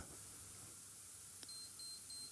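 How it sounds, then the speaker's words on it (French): A Pentax PC35 AF camera's self-timer gives a few short, high electronic beeps that repeat evenly over a quiet hiss, small and close by. "une LED rouge va s'allumer et va clignoter à la fin en faisant des petits bips"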